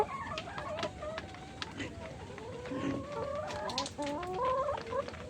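Several chickens cluck and murmur nearby in overlapping bursts, with soft background noise and a voice occasionally mixed in.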